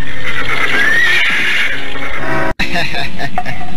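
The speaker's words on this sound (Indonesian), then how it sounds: "telinganya justru mendengar suara ringkih kuda itu semakin mendekat" A horse whinnies, a loud, drawn-out neigh rising and falling over a steady background of voices and ambience. A brief dropout follows, then more crowded sound.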